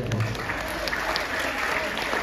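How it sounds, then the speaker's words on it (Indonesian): Audience at an Indonesian talk or sharing session applauding: steady, dense clapping from a room of people, continuous throughout at moderate loudness. "Nah, boleh tepuk tangan dulu."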